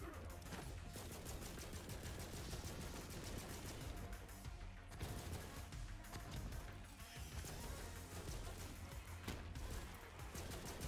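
Rapid pistol gunfire in the video game Borderlands 3 crackles almost nonstop, dense bursts of shots layered with impacts and explosions under a busy combat soundscape, loud and continuous with only brief dips.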